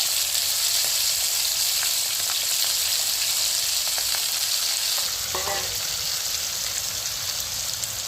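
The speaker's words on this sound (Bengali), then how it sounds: "এখন আমি কড়াতে মাছগুলো দিয়ে দিচ্ছি।" Mustard-marinated fish frying in mustard oil in a kadai, a loud, steady hiss of hot oil throughout, close up, with a few small crackles and spits.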